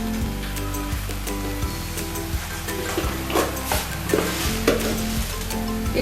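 Chilli potato is stirred in a frying pan, the steady loud sizzle broken by repeated scraping strokes of the spoon, with no voices over it.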